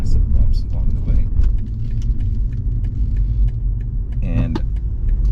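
A BMW car driving over a bumpy road produces a low rumble with jostling rattles and a jangle of keys inside the cabin, while a person talks over it.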